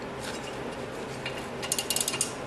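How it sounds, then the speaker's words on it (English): A ratcheting wrench works on the rear brake bolts of a 2015 Jeep Wrangler with a snow plow, giving a run of quick, fairly close metallic clicks that grow sharper toward the end over a steady background hiss. "I don't want to overstrain the ratcheting wrenches"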